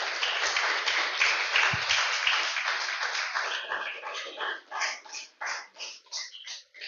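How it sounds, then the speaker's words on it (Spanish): A church congregation claps during a sermon, starting with a dense burst of applause that thins into a few separate rhythmic claps and then fades out. "Déselo fuerte el aplauso al Señor"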